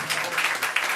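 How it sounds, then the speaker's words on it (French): An audience at a third-anniversary evening applauds the performer Violaine Forest, a brief close burst of many hands clapping with a couple of accented claps. "On l'applaudit encore une fois."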